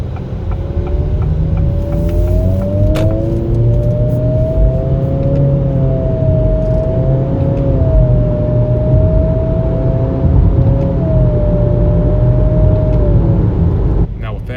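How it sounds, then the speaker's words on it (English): A 2025 Acura ADX A-Spec AWD compact luxury SUV engine drones steadily under load, a constant loud hum with a wavering tonal whine rising and falling as it runs, heard from inside the cabin. "this is probably my biggest complaint with the car, is the engine sound"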